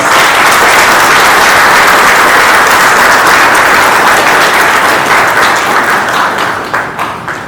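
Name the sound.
loud round of applause welcoming minister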